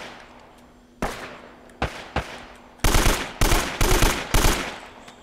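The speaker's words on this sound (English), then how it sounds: "I'm gonna have to swap over to an AK." AK rifle fire in the video game Uncharted: Drake's Fortune: a few single cracking shots, then several short, loud automatic bursts in quick succession, each ringing out with a sharp attack.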